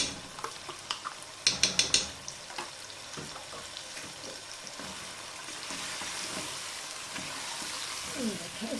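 A spoon stirs yogurt into chicken in a cooking pot for chicken yakhni pulao, giving a few sharp scraping clinks early on, then soft wet stirring under a faint sizzle. No one talks.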